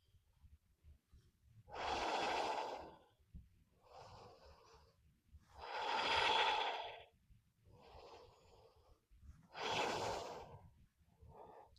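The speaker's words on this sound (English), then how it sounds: "Inhale. Exhale." Slow, deep breaths in and out, three long airy exhalations with softer inhales between, close and quiet during a lymphatic drainage exercise routine.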